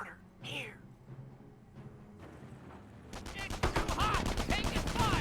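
Gunfire and mortar blasts from a Company of Heroes 1 match between US and Wehrmacht forces, with a Greyhound armored car nearby. Bursts and rapid shots build into dense, loud repeated firing in the second half, under a commentator's voice.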